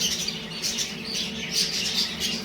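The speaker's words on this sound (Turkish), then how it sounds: "Yavrular heyecan yaptı." Excited chicks of pet birds squawk and chirp in a continuous, fairly close chorus of high, scratchy calls that rise and fall in short bursts, with no talk over them.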